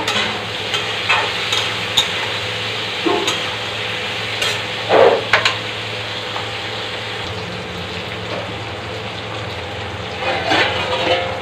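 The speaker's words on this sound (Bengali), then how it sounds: "আলু পটল একসঙ্গে ভেজে নেব।" Potatoes and pointed gourd fry together in a pan for a fish curry meal, giving a steady soft sizzle with occasional stirring scrapes and clatters throughout, fairly close and with no talking.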